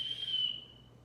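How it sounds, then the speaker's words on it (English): A dog recall whistle blown lightly, one soft, thin, steady tone that holds for about half a second and then fades away, close by and heard alone. "I'm just simply going to blow this whistle."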